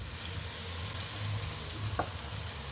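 Ginger, garlic and onion paste frying in hot oil for bhuna khichuri, a steady broad sizzle with low rumbling and one brief scrape of a utensil near the end, no voices.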